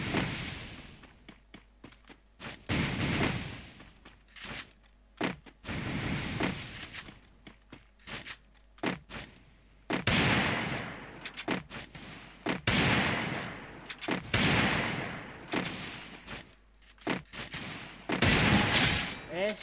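Desert Eagle pistol shots ring out in the mobile shooter Free Fire as a series of sharp, loud cracks at irregular intervals, some in quick pairs, over a busy game soundscape with a voice talking at times.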